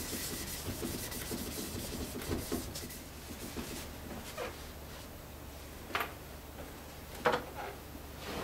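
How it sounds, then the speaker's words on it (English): Cloth rubbing polish into the finish of a 2012 Gibson Midtown Custom guitar, a soft, steady scrubbing texture at close range with a few sharper knocks near the end. "Then we just use a clean part of the cloth. Rub in the Earls."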